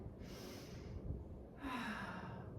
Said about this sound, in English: One breath in. One breath out.